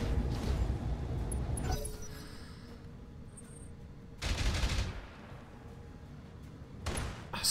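A turret firing in the video game BattleTech, heavy booming bursts that come in three loud volleys separated by quieter rumbling lulls.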